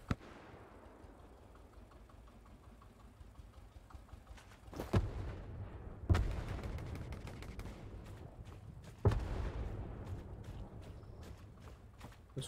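Gunfire in the Hell Let Loose war game on Hill 400 arrives as several heavy booming shots over a low rumbling battlefield din, each followed by a lingering decay.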